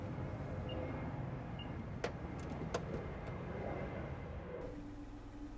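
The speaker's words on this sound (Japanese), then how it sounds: "同様にドアを閉められます。" The power sliding door of a 2020 Mitsubishi eK X Space closes with a low steady motor hum, a couple of faint latch clicks partway through, and a soft thud as the door seats near the end.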